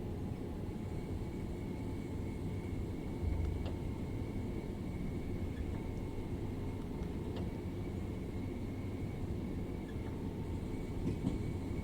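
A Class 710 electric train running in a train simulator game gives a steady, continuous low rumble with broadband rail noise, and faint clicks and tones sit on top of it. There is no talk.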